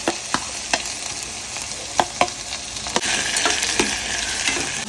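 Chopped onions fry in oil already tempered with red chilies, mustard, cumin and fenugreek; a spoon clinks and scrapes against the pan in a loose rhythm over a constant close sizzle, which swells louder near the end.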